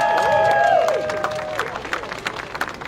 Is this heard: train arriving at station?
no